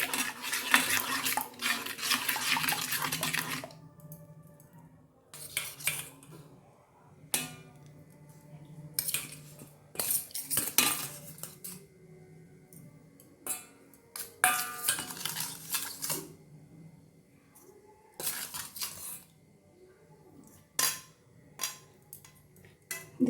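Hilsa fish pieces being mixed into a seasoning paste in a bowl, with repeated scrapes, clinks and knocks of a utensil against the bowl, coming in irregular bursts separated by short quiet gaps.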